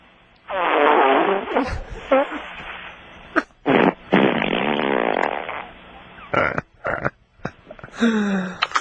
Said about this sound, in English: let's have a big fart, buddy